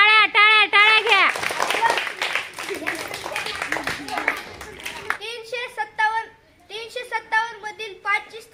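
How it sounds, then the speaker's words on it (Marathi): A group of schoolchildren in a classroom claps in quick bursts while high young voices chant and call out, the claps mixed in among the lively group speech. "टाळ्या टाळ्या टाळ्या घ्या"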